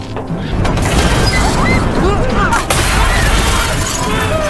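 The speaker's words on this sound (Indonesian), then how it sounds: "kaca kereta yang ada di dalam akhirnya hancur" Train window glass shatters in a zombie action film, a loud crash with scattered tinkling debris under dense, chaotic commotion and cries.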